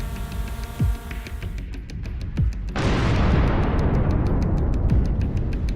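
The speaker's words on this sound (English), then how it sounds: "An explosion of incredible force." A powerful explosion destroying an armored vehicle on a Ukrainian battlefield, preceded by low rumbling booms, then a sudden loud blast giving way to a long roaring, crackling wash of noise.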